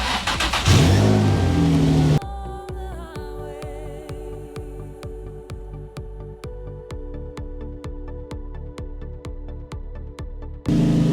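A Nissan 350Z engine runs at idle with a freshly installed Chase Bays power steering pump, giving a steady close mechanical drone with a regular ticking pulse that carries on alone, bracketed by louder rumble at start and end.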